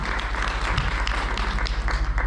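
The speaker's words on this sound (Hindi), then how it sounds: "तो एक बार जोरदार तालियां पवन शर्मा सर के लिए चाहूँगा।" Loud, dense applause from an audience at a gathering, many hands clapping steadily and evenly throughout with no voices over it.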